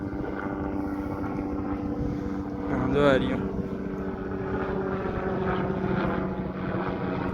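A helicopter drones steadily overhead in Khambhalia town with a continuous, fairly loud humming throb that swells briefly, while a person speaks over it.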